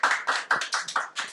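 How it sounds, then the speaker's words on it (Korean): Small audience clapping at a classroom teaching concert, about six separate bursts of hand claps in an uneven rhythm, close and fairly loud with no talking. "박수 한번 주세요"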